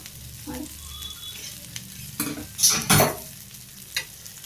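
Katle hittu cutlets fry in a little oil on a pan, soft sizzling with a few scraping and turning sounds from a spatula, quiet and intermittent with louder bursts toward the end.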